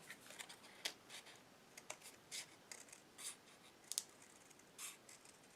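Paper trimming for a homemade easel card: a string of short, quiet scratchy cuts or strokes, about a dozen brief bursts at an uneven rhythm, close by with no talking.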